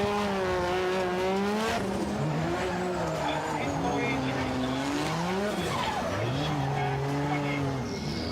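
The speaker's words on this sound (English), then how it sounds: "Getting those tires nice and warm for this" A drift car at Suzuka Twin Circuit in Mie revs hard and squeals its tires while warming them up for a final run, loud and close with continuous engine wail and tire screech, while a commentator talks over it.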